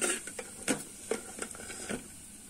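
Dry fruits frying in desi ghee for a home-style rice kheer, giving soft sizzling with repeated scraping and stirring strokes of a spoon in the pan, close and fairly quiet.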